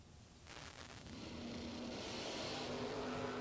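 A doorslammer drag racing car with a slightly modified exhaust roars with a broad, rising engine noise that swells and holds steady, heard from a distance with no talking.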